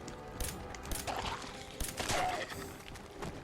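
Gunfire in the game Fallout 4 comes in several loud, ragged bursts over a busy background of other game sounds.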